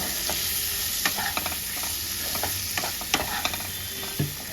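Spice mix of turmeric and chili powder is stirred into potatoes in a hot pan, giving a constant frying hiss with irregular spatula scrapes and taps up close, no voices.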